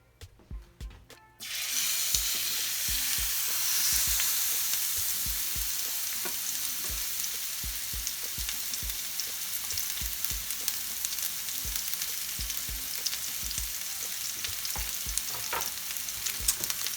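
Meat drops into hot oil in a pan, and after a brief quiet start the sizzling bursts in loud and close. It then holds as a dense, steady frying hiss, pocked with small pops and crackles, with no voices.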